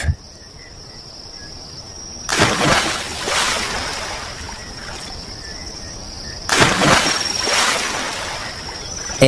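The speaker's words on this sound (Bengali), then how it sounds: "এবার তুমি ডুব দিতে পারো বিনোদ।" A person plunges into water twice, each dip a loud splash and slosh followed by settling ripples, set against a steady chorus of crickets and insects.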